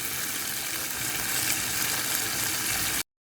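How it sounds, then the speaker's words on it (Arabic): Rice with soy sauce and vinegar sizzles steadily in a hot pan while being stirred, a close continuous frying hiss that stops abruptly. "وراح أحرك الأرز."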